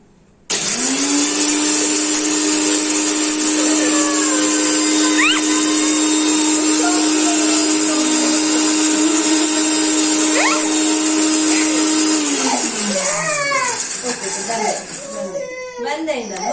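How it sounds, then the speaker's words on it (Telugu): A kitchen mixer grinder powders roasted makhana and puffed rice, a loud steady whine that runs for about twelve seconds, then winds down, with a voice briefly heard near the end. "ఇప్పుడు నేను వీటిని కూడా మిక్సీ పట్టేస్తున్నాను"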